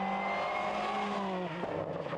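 A Peugeot 206 WRC rally car on a test run, its engine note steadily climbing in pitch as it accelerates, heard close and continuous with a brief shift blip near the end.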